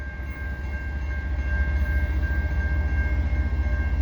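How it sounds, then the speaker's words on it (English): A CN freight train passes at speed in a snowstorm at St. Ambroise, with a steady low rumble and rhythmic wheel clatter growing slightly louder and a thin sustained tone above it, no voices. "Quick freight coming through in the snow at St. Ambroise."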